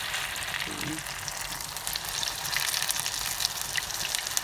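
Zucchini fritters (mücver) fry in a pan of oil with a dense, steady sizzle and crackle close up, a brief soft clink near the start and no talking.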